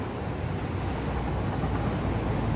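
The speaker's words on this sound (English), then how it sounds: "All you have to do is get on the damn train." Train rolling along in the Satisfactory game, a steady, dense low rumble that holds evenly throughout with no talk over it.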